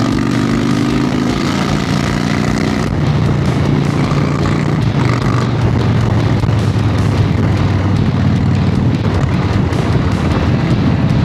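A loud Harley-Davidson Dyna motorcycle engine roars steadily and close, with a deep, rough rumble that holds for the whole stretch and shifts slightly partway through.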